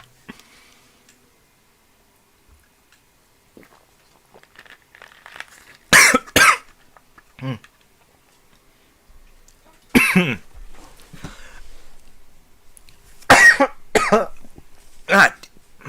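Sharp bursts of coughing come in clusters after something went down the wrong pipe, loud and close against a mostly quiet room, with a few short pauses between fits and some faint murmured speech.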